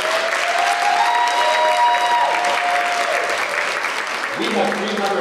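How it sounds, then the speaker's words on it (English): Audience applause at a fall university convocation on a campus, honoring the landscaping; broad steady clapping fills the space, with faint tonal sounds running alongside and a shift late in the clip. "I want to have applause for the landscaping around here"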